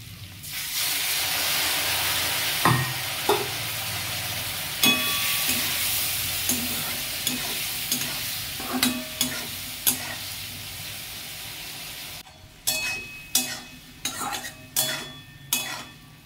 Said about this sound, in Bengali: এবার খুব ভালো করে কষতে হবে।